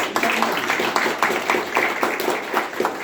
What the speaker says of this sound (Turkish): Bir alkış istiyoruz